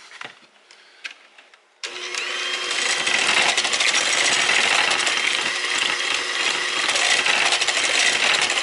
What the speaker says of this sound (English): Gotta mix that in, gotta mix it in.